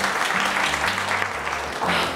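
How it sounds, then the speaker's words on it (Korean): Audience applause at a Korean youth speech event, a dense steady wash of clapping over about two seconds with a faint low hum beneath. "박수!"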